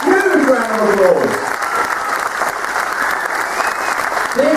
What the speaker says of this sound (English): Give them a huge round of applause, come on, huge round of applause.